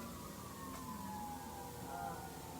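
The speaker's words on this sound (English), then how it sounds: "That's the only sounds that we're hearing here are ambulances." An ambulance siren wails faintly in the distance outside, a steady continuous tone drifting slowly in pitch over quiet background.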